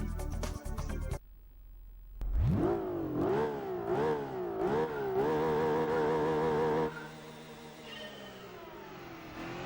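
Honda NSX in Gran Turismo 4 launching down a 400-metre Las Vegas strip drag run, engine revving hard and climbing through several quick upshifts, each gear a rising whine broken by a brief dip, then a sustained high steady drone.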